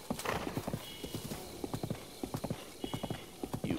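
A horse's hooves clip-clop in a quick, steady trotting rhythm in the Nintendo Switch game Zelda: Breath of the Wild, moderately close, with a brief whinny near the start and light ambient background.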